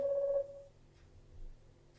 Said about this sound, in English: It's just ringing for some reason.